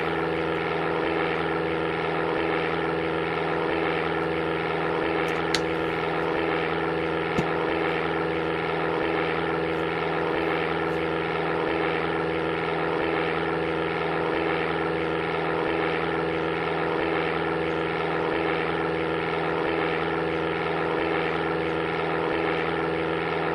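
A propeller airplane engine drones steadily in the Amiga game Flight Simulator II, a constant loud hum with a couple of faint clicks and no voices.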